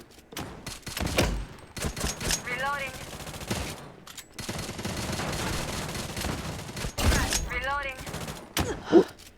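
Gunfire from the shooter video game MATR1X FIRE comes in rapid automatic bursts, mixed with game effects and a voice talking and groaning over the shots.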